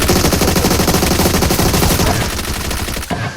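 Rapid automatic gunfire from a multiplayer shooter video game, loud, dense bursts fired in quick succession before tapering off near the end.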